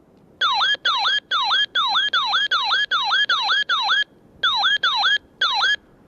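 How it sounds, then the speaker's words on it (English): A loud electronic siren alert from a RadioShack 12-993 radio scanner at volume 10, sounding in rapid repeated wail-yelp bursts, about a dozen short pulses in steady rhythm with a brief gap near the end. "Alert volume 10. This is the siren."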